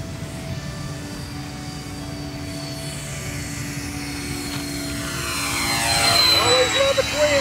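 Dynam Cessna 310 Grand Cruiser twin-engine RC airplane flying overhead: a steady droning motor hum over outdoor wind noise that swells louder toward the end as the model passes close.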